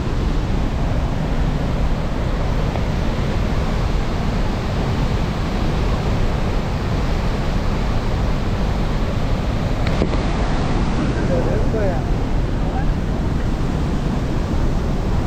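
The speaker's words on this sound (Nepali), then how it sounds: "त्यो पानीको फ्लोले पानी ढुङ्गासुङ्गामा साउन्ड अलि सुनिरहेको होला" Water flowing over rocks at a debris fall, a dense, steady, loud rushing roar with no breaks or voices.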